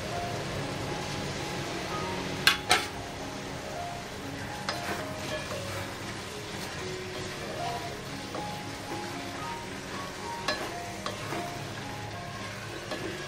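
Peas and cauliflower sizzling in a pan while being stirred, a continuous moderate frying hiss with sharp clinks of a spoon against the pan and scattered scraping sounds.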